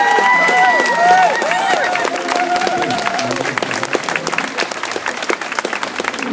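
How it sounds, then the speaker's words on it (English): Crowd applause and cheering at a police event honoring senior officers and recent academy graduates, loud sustained clapping that slowly thins out, with a voice briefly audible at the start. "Let's have one more round of applause."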